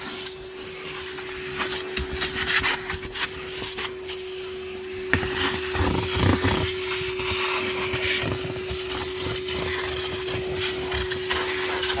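A Ridgid dual 18-volt cordless vacuum, model HD0918, runs steadily with a constant motor whine and airflow hiss, shifting in tone around the middle as debris is sucked up, with no talking.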